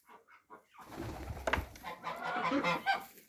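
Several geese squawk and cackle close by, noisy agitated honking calls layered over each other after a few faint cries.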